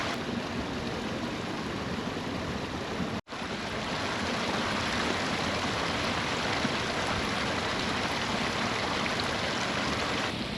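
A mountain stream on the Valley of Flowers trek rushes in a loud, steady, close wash of water with no voices.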